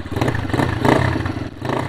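A Tao Motors Cheetah 125cc ATV fitted with an aluminum slip-on exhaust idles just after starting, giving a steady, loud, close engine drone that slightly swells and dips.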